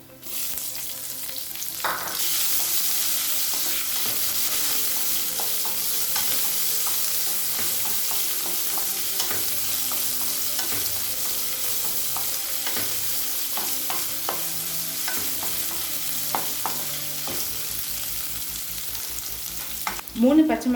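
Sliced onion sizzles steadily in hot oil in a kadai with curry leaves, ginger, dried chilli and asafoetida, while a spoon scrapes and stirs at intervals, close and continuous for about twenty seconds.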